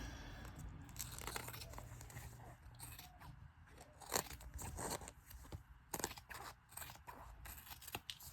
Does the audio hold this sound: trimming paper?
yes